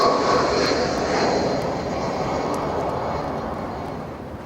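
Austrian Airbus A319 jet arriving on runway 24R at Barcelona airport, a steady broad engine roar that slowly fades as it passes, heard from nearby.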